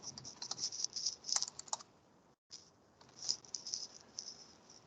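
Fast bursts of typing on a computer keyboard, close and fairly quiet, with a short silent gap midway before the clicking resumes.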